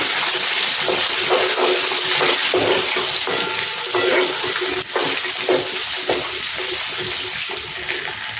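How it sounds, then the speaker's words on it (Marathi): Tempering (phodni) sizzling in hot oil for dal, a continuous crackling sizzle with scattered pops and stirring knocks, close and fairly loud, without talking. "इथे मी फोडणी घातलेली आहे."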